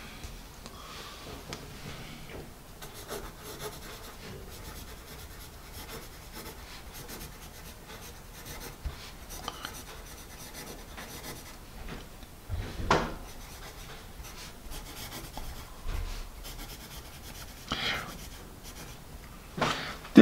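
Faber-Castell Grip 2001 and Jumbo Grip graphite pencils scratch steadily across paper, a soft continuous close scribbling with small bursts of firmer strokes and occasional taps.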